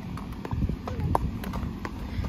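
Hooves of horses out hacking clip-clop along at a walk, a quick irregular run of sharp close knocks over low rumbling movement noise.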